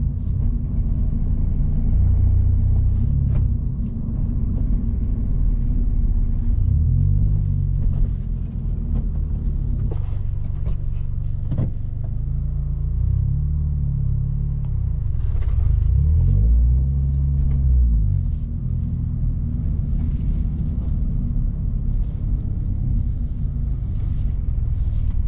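A 2024 Toyota GR86 with a manual gearbox drives along, its engine and road noise forming a steady low rumble that swells and eases gently through the run, heard from inside the cabin with no talking.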